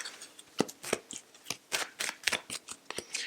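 A deck of tarot cards is shuffled by hand in quick, uneven riffles and taps, crisp papery snaps up close with short pauses between them and no speech.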